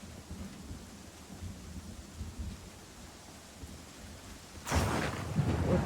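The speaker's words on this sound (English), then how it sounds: "Now this time it's starting to rain." Rain and thunder in the video game Pathfinder Kingmaker: a soft, steady patter of rain with low distant rumbles, then a loud, close thunderclap cracks in near the end and rolls on.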